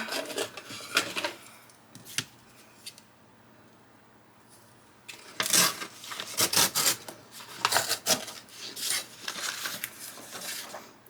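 Cardboard from a shipping box being cut by hand, with a few rasping strokes early on, a quiet pause, then a denser run of loud, scratchy cuts and tearing rubs close up, with no talking.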